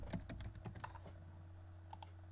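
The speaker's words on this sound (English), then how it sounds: "clicking the G and typing in here," Fingers type on a computer keyboard in a quick, quiet run of key clicks, followed by a pause and two final taps, under a low steady hum.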